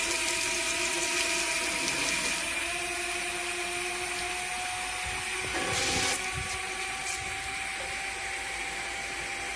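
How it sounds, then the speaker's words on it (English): A steam injector feeding water into a boiler gives a steady mechanical hiss and hum with tonal whine throughout, with a brief rushing surge in the middle, like steam and water flowing through pipework. "injector is picking water up from the flow and pushing it into the boiler"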